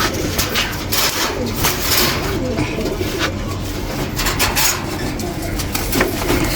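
Pigeons in a loft where some birds are sitting on eggs, cooing in steady, overlapping low calls throughout, with occasional light metallic clinks in the background.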